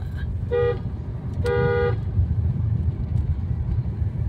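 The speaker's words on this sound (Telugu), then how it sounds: "కొట్టండి హార్న్" A Maruti S-Cross car horn sounds twice during a driving lesson: a short honk, then a slightly longer one, both loud and close over a low, steady engine rumble.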